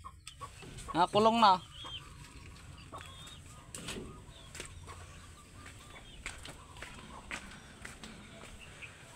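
A short burst of farm chicken clucking and squawking near the start, followed by scattered faint rustles, footsteps and a brief spoken phrase in Filipino in a quiet setting.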